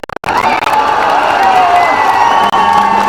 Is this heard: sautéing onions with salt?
no